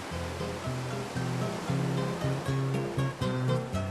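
Steady rushing wash of surf with a low tonal hum running through it, continuous and fairly loud, no voices.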